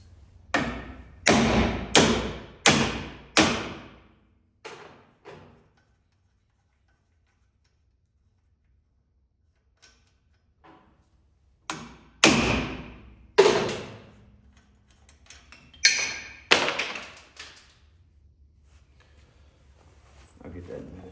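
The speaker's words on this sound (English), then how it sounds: "I'll put my nut back on it a little bit, that way I can hit it with a hammer" Hammer blows strike a nut threaded onto a rusty hydraulic cylinder rod from a Somero laser screed auger head, landing as loud, close clusters of sharp metallic taps with pauses between bursts and a quieter knock or two in the gap.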